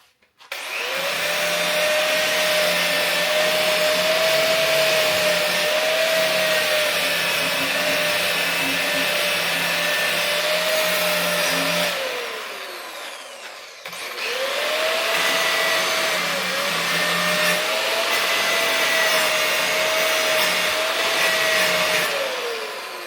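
A rotary tool fitted with a cutting wheel works on a chopped Mitsubishi L300 in two long runs. Each run is a loud, sustained high whine, with a spin-down in the middle before the tool starts up again.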